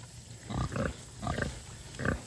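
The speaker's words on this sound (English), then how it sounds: "Hey, pigs!" Pigs grunt on a farm, close by, in four short throaty bursts spaced evenly over a low steady background hum.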